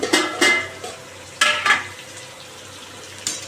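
Sweet potatoes with cumin and green chilli fry in a pan as a faint sizzle, broken by several sharp scraping clinks of a utensil stirring against the metal.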